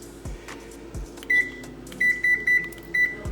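An oven control panel beeping while the baking timer is set, a series of short, bright electronic beeps in an irregular run, close and clear, over a faint background hum with soft button clicks.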